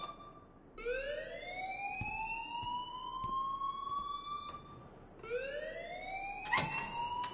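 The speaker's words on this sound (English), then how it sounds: "Leave Miss Caulfield alone, and please turn off that alarm since that's your job" A school alarm in Life is Strange wails in rising electronic sweeps, sounding loud and continuous in one long cycle before restarting, with no voices over it.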